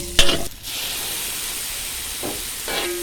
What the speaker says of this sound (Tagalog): Iprito-prito natin yung atay.